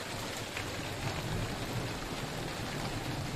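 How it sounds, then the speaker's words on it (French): Steady rain falls in a dense, even hiss with no breaks over a house and vegetable garden, fairly close and moderately loud, with no voices over it. "Ah, il pleut, hein?"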